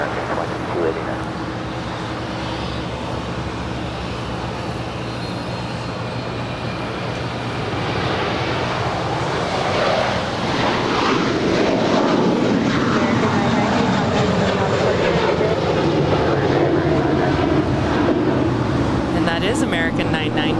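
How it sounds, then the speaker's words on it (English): A jet airliner landing at Los Angeles International Airport, its engine roar building and swelling as it passes, heard from a distance over steady background rumble and noise. "Looks like we just had a special livery land."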